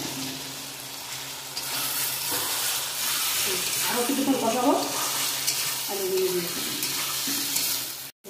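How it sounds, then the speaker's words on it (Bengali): Fried potatoes being cooked down in a thick spice masala, a loud steady sizzle with scraping, sloshing stirring strokes through the middle, ending with a sudden cutoff. "এখন ভাজা আলুগুলো দিয়ে আরও কিছুক্ষণ কষাবো"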